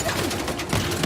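Rapid Tommy gun fire in Uncharted: The Lost Legacy, a dense continuous burst of shots with a steady rattling texture filling the whole moment, loud and close.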